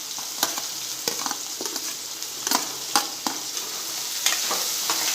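Finely chopped onion goes into a pan of golden garlic and fries with a steady sizzle, while a spoon stirs and scrapes it in sharp, irregular clinks.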